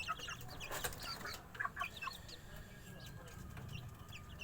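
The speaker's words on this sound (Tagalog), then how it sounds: "Ito po yung ating available na sisiyo." One-month-old Shamo Aseel chicks of the Gohan Tanaka line cheep and cluck in short, scattered high calls over a steady low rumble of background noise, with some faint talk.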